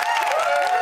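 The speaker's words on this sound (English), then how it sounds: "Give this panel a round of applause" Studio audience applauding a panel on a Big Brother UK spin-off show, a steady wash of claps filling the whole brief moment with no voices.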